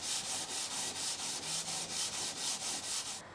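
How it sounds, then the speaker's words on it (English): Wood rubbed back and forth on sandpaper laid over a carefully flattened surface while shaping a guitar action gauge: a steady rhythmic rasp of about a dozen even strokes, close and continuous, with no talking. "sandpaper on a very carefully checked and sanded flat surface"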